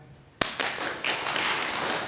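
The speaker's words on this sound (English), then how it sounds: "And now it's a big clap." One sharp, close hand clap breaks a quiet room, followed by a soft, continuous rubbing of palms during a guided relaxation exercise.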